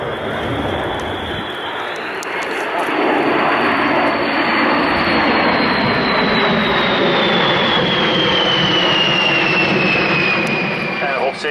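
A Boeing B-52 bomber passing at an air show, a loud sustained jet roar swelling and holding as it sweeps by, with a falling whine in the engine tone as it recedes.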